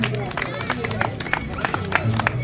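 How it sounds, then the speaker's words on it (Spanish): An audience claps in steady rhythm at a huaylash dance performance in a town's main plaza, the sharp claps riding over loud band music, with crowd voices underneath. "Palmas, palmas."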